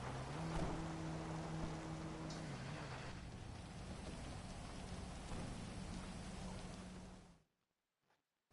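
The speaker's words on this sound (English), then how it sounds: "it's a little rainy out" Steady rain hisses loudly and continuously in the GTA V Online video game, with low engine-like drones underneath, then cuts abruptly to near silence.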